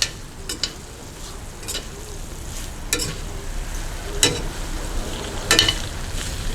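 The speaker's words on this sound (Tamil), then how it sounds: "ஸோ அந்த மாதிரி நீங்கள் ஷேக் பண்ணி விட்டுட்டு நல்லா இந்த சிக்கனை ஈவனாக அதை சாஸில் கோட் ஆகிற மாதிரி பார்த்துக்கணும்." Chicken wings tossed and shaken in honey BBQ sauce in a hot pan, a steady close sizzle broken by several sharp stirring and scraping bursts, with no one talking.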